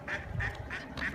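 Ducks at a park lake give four evenly spaced quacks, faint and somewhat distant, against a low outdoor background.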